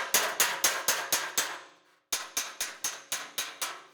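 A hammer strikes dented sheet metal backed by a dolly in quick, even blows, two bursts of about six ringing metallic taps each, separated by a short pause, close and clear.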